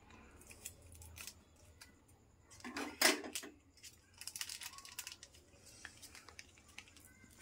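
Scissors snip open a small masala packet for Maggi noodles with a few crisp, close cuts, a sharp burst in the middle, and light rustling and clinks around it.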